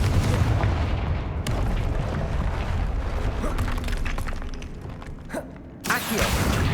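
Fiery spell blasts erupt in Hogwarts Legacy combat, heavy booming bursts over a rumbling, chaotic backdrop, with a sharp loud blast near the end.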